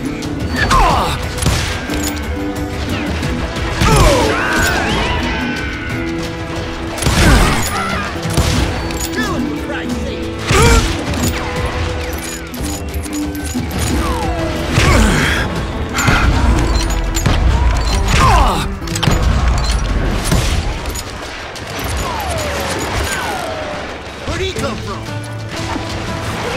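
Old West gunfire in the video game Call of Juarez: Gunslinger: repeated loud shots and crashing impacts rattle through a busy battle mix, with voices shouting at times over the ongoing shooting.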